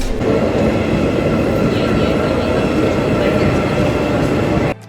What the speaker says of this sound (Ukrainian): До перемишля будемо їхати потягом Інтерсіті